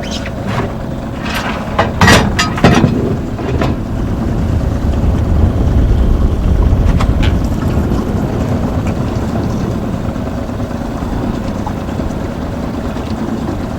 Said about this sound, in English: So Sonny cranks up the engine and instructs the crew that we are going to try some open water grassy leads